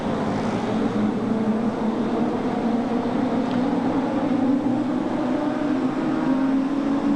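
Midget race cars roar around a speedway track at the 1987 NZ Midget Champs, a steady, blended engine drone from several cars at a distance, with no break in the sound.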